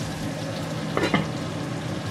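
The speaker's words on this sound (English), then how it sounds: "while the chicken is cooking, well, frying" Steady, muffled sizzling of chicken frying in a covered pot, with a couple of brief clatters partway through and no voices.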